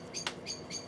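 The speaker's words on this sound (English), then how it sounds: "this used to be a really peaceful place until that bird invaded" A bird chirps outside in three quick, bright tweets, fairly faint and distant, with no talk over it.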